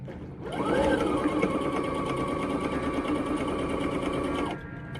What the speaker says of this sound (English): So yes, I have my first sewing machine.